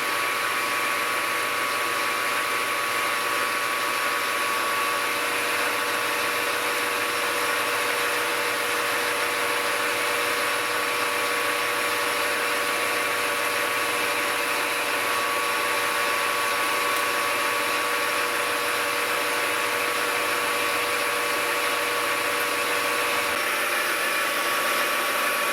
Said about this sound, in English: this is the final cut for that pocket for the cylinder